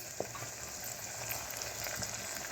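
Curry leaves dropped into hot oil, a steady soft sizzling and crackling frying sound with a few faint stirring clicks, close and alone without talk.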